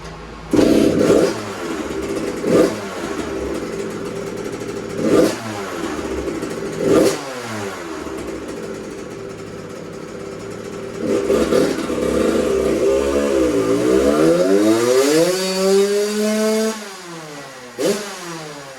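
A 2001 Suzuki RM80 two-stroke dirt bike fitted with an FMF shorty silencer is run on a dyno, with a few sharp blips before a loud, sustained pull whose pitch climbs and then falls away, plus a final rev.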